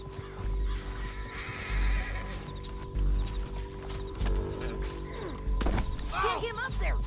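Horse neighing and hooves in the video game Red Dead Redemption 2, with thudding hoofbeats, a loud whinny near the end, and game sounds and voices around it.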